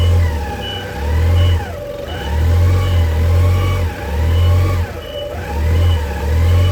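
A forklift engine revs hard in repeated surges, rising and falling about four times, as the machine struggles to reverse with what seems to be a sticking brake; loud and close with no talking.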